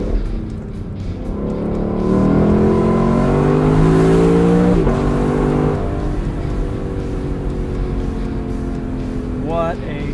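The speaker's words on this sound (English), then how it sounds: "What a charming engine." A 2020 Lexus LC 500's naturally aspirated V8 revs up and holds a loud, rising, droning exhaust note, then settles. It is close and steady throughout, with no talking over it.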